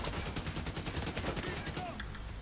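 A turret in The Division 2 fires a rapid burst of evenly spaced shots that stops near the end, with a voice talking over it.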